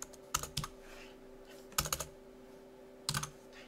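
Typing a chart title on a computer keyboard for a LibreOffice Calc chart: three quick clusters of soft key clicks separated by pauses, close and fairly quiet against a faint hum.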